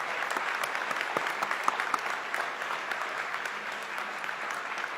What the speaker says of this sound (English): if you'd like to give them an applause, thank you for the work well done